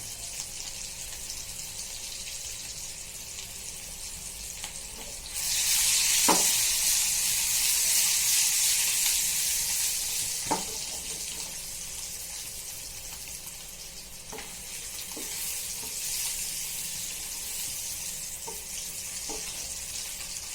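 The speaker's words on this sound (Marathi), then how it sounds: "आलू झाले आपले बऱ्यापैकी फ्राय झाले आहे" Potatoes frying in a home kitchen pan with a little turmeric, a steady sizzle running throughout that swells louder for a few seconds near the start, with occasional soft clinks of stirring and no talking.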